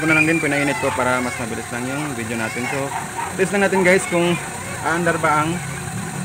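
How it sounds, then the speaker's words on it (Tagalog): A car engine idles steadily in the background while someone talks over it, waiting for the automatic radiator fan to switch on through a newly installed relay; a dog barks now and then. "So pinaandar ko ng makina nito guys."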